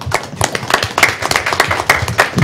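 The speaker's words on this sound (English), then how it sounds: "So y'all can clap now." Small audience at a city commission meeting clapping after an Arbor Day proclamation, distinct individual claps in a loose, uneven rhythm, close and fairly loud.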